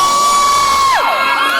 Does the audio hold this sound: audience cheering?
yes